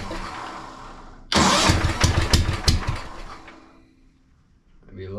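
An old, rare tractor engine starts suddenly with a loud rough burst, chugs unevenly for a couple of seconds, then fades and dies out. A voice is heard briefly at the end.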